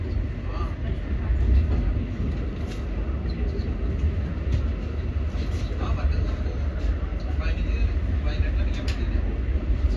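A train rolls into Berlin Zoologischer Garten station, heard from on board as a continuous low rumble and rattle of wheels and carriage, steady and fairly loud from start to finish.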